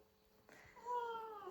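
A pet cat meows during grooming with a comb, one drawn-out rising meow close by after a quiet start, fairly loud against a soft background.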